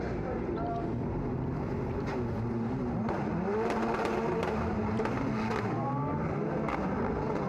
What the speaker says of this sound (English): A bit of contact, but Eriksson just rolls off the brake.